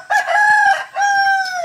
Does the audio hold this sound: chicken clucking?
yes